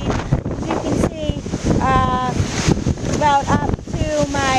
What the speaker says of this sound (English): We're experiencing a little bit of Hurricane Irene.